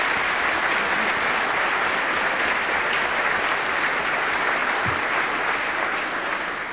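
An audience at the 1993 New York State of the State address applauds to congratulate Voorheesville's three blue ribbon schools, a steady, dense wash of clapping that holds loud throughout.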